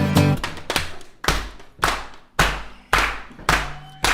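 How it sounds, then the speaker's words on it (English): A group claps in time with a song, sharp loud hand claps landing on a steady beat roughly every half second, close and clear, with little else audible between them. "This is where we clap it out together."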